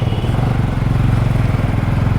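Orange KTM Duke 390 single-cylinder motorcycle engine under way, a loud close steady thrum with a dense pulsing beat and no speech.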